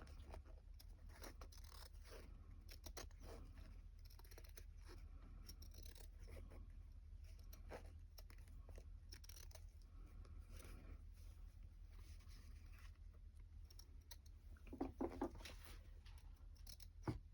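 Scissors snipping bits of paper or fabric for a craft project, scattered close, faint clicks and cuts over a low steady hum, with a few louder snips near the end.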